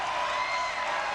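Steady roar of a large arena crowd cheering and applauding at a 1989 Nebraska Huskers volleyball match against Hawaii, a dense continuous wash of noise with no clear breaks.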